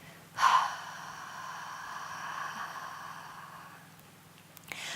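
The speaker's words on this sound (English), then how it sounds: "then exhale slowly and gently in a controlled way out your mouth" A slow, controlled deep exhale through the mouth during a menopause yoga session, beginning with a sharp breathy onset and then tapering into a long, soft, steady airflow heard close and alone.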